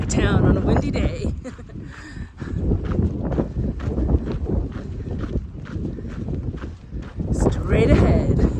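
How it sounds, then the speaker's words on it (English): Wind buffets a microphone with a steady low roar on a road outside Pie Town, New Mexico, while footsteps crunch along the road and a voice speaks over it. "Road walking out of Pie Town on a windy day."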